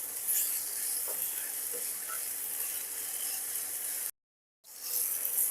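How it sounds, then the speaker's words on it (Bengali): Potatoes and onions frying in a pan for a fish curry, a soft steady sizzle with faint stirring scrapes, briefly cut to silence near the end. "আলু পেঁয়াজগুলো 2 মিনিট মতো আমি ভেজে নিয়েছি"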